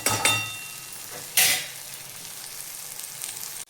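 Cluster beans frying in hot oil in a pan, giving a steady close sizzle with a couple of louder bursts as they are tossed or stirred, no voices present.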